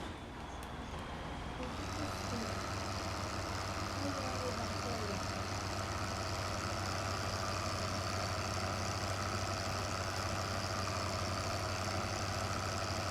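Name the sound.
truck engine idling in video game Farming Simulator 15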